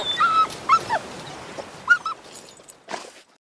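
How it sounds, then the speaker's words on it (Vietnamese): An animated film dog whimpering and yipping, several thin high whines spread across a few seconds over a soft background hum, ending in a short rustle; no speech. "Ơ, mà con chó này ở đâu ra thế?"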